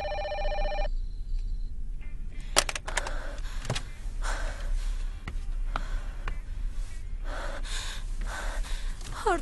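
A telephone rings with a steady electronic bell tone at the start, then cuts off, followed by gasps, sharp breaths and clattering movement in a room.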